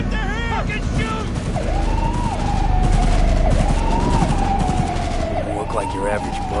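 Gunfire from a Cyberpunk 2077 street shootout, a dense continuous fusillade of shots under a wailing police siren and shouting voices, loud and steady throughout.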